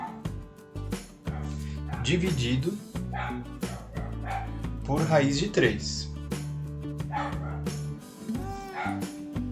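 A dog barks and yips intermittently in the background while a person talks steadily over it, the barks short and sharp.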